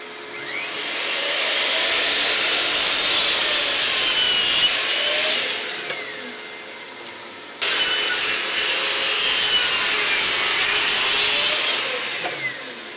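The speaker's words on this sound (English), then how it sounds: "So onto the miter saw, let's get this cut up." A miter saw rasps through wood in two long cuts, a harsh, loud grinding whine that swells, fades briefly, then starts again.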